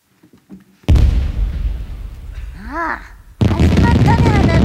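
Fireworks at a Japanese summer fireworks display: a sudden loud boom opens a long rumbling crackle, a rising whistle follows, then another burst. Voices murmur faintly under the noise.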